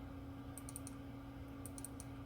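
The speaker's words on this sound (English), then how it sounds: "Once the outline is highlighted, you can double click." Two quick double clicks of a computer mouse, sharp and faint, come about a second apart over a steady electrical hum during a print-and-cut waterslide decal project.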